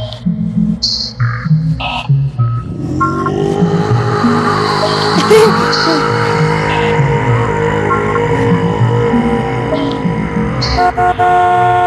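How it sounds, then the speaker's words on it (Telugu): A car horn sounds loudly and close, first in short toots and then as a long, sustained blast with little else around it. "నిన్నే హార్న్ కొడుతుంటే వినబడ్డా లేదా"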